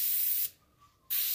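An airbrush sprays paint in a continuous hiss for shading practice; the spray is cut off briefly mid-clip, leaving near silence with a faint tone, then the close, steady hiss resumes.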